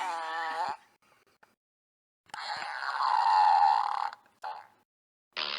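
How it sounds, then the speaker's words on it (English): A person lets out a real burp, a long, loud, gassy belch close to the microphone, with shorter vocal bursts before and after. "With a real burp."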